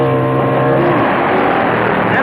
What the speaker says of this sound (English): It's a Harley in the near lane against a Triumph in the far lane,